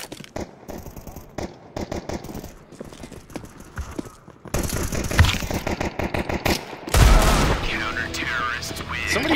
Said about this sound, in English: Somebody shot me through the fucking wall right there.